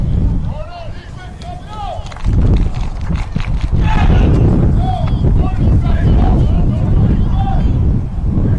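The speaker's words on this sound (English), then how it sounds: "A windy day, or windy evening out here." Wind buffets the microphone in heavy, rumbling gusts at an evening high school football game, louder after the first couple of seconds, with faint distant voices in the background.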